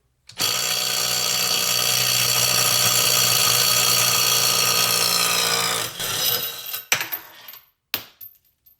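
A Harbor Freight Hercules brushed impact wrench hammers loudly and continuously on a bolt torqued to 176 foot-pounds for several seconds, then stutters in a few short bursts as the bolt breaks free.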